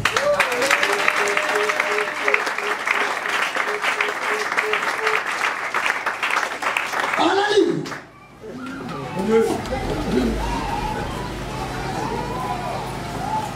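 A church congregation applauding and acclaiming during a sermon, dense clapping and cheering for several seconds that then breaks off into quieter room sound and stray voices.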